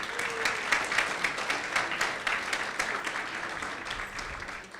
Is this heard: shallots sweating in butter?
no